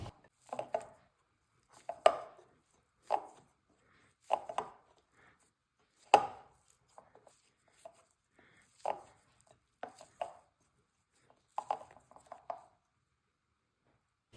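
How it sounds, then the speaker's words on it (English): Biscuit dough is mixed and pressed by hand in a bowl, producing about a dozen soft, muffled thumps and squishes at roughly one-second intervals, close and quiet with silence between, and no talking. "Now it's time to ditch the spoon and go in with your hands. Combine together until it forms a biscuit dough."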